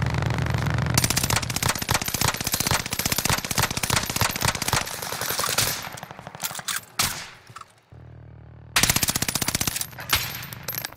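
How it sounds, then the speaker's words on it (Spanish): Rapid bursts of automatic gunfire from Call of Duty: Modern Warfare, long rattling volleys broken by short pauses and a brief near-silence, loud and dense. "Escuché varios tiros como a la izquierda"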